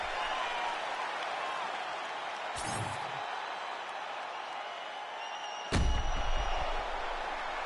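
A simulated arena crowd in UFC 5 roars with steady broadband cheering and applause after a full-distance welterweight bout, with a sharp thud near the end.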